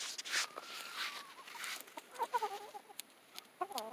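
Pinto spangle brood hen in molt giving soft, scattered clucks and short calls, fairly faint with quiet gaps between.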